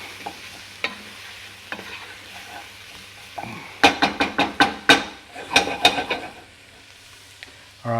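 Garlic for braised lamb shanks sizzles in a hot pan while being stirred, a quiet fry that breaks into a rapid run of sharp scraping and clacking strokes before settling back to a soft sizzle.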